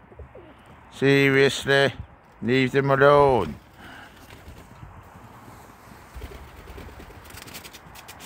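Pigeons in a loft give two loud, throaty coos up close, followed by quieter rustling as they try to feed; a person speaks briefly as well.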